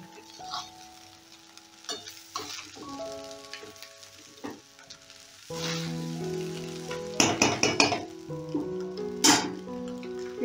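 Rice stirred as it fries in a pan, sizzling steadily with a sequence of scraping strokes and soft clatters, louder toward the end and heard close up with no talk over it.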